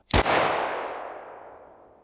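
A single loud, close pistol shot from a reenactment of John Wilkes Booth shooting President Lincoln in a crowded theater, a sharp crack followed by a long reverberant decay that fades over two seconds, with no voices.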